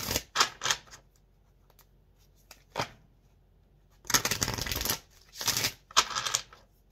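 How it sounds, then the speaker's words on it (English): Tarot cards riffle and flutter in quick bursts, a few short shuffles followed by longer brisk ones, close up with no talking. "One more shuffle."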